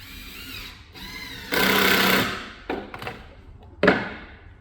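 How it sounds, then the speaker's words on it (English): A drill driving yellow 30mm PZ2 screws into van rear racking, giving a brief whirring run, then a stronger, sustained burst of driving, followed by a few short bursts and thuds as each screw seats, close by. "Then we're going to screw them together."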